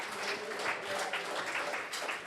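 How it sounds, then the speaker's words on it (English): Applause from a live show audience at the Sydney Junction Hotel, a dense, steady wash of many hands clapping at moderate distance, continuous for a couple of seconds with no talk over it. "A massive, massive round of applause for the Sydney Junction Hotel."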